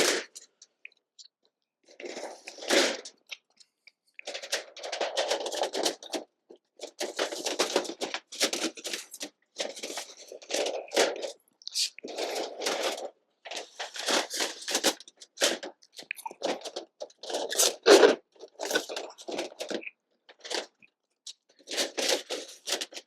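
Thin titanium sheet crackles and crinkles as it is rolled by hand into a stovepipe for a hot tent stove, coming as close, irregular bursts of crisp metallic crunching separated by short pauses.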